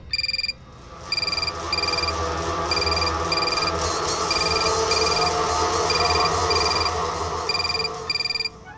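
A telephone rings repeatedly in steady bursts with short gaps, loud and close, over a continuous background hum.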